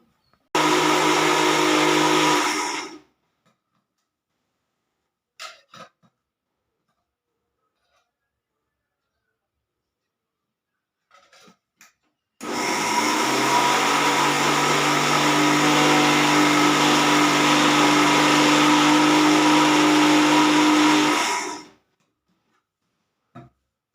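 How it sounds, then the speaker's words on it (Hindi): An electric mixer grinder whirs loudly and close as it blends moringa leaves with water in its jar, one short burst followed by silence and faint clicks, then a long steady run of about nine seconds before cutting off. "बस इसी मिक्सर जार में बना रही हूँ। इसी में बारीक में पीस लूँगी पानी डाल के।"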